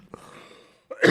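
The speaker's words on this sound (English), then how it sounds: "my cough is getting bad" A single short cough followed by a harsh, throaty burst, close and fairly loud, with a brief quiet gap between them.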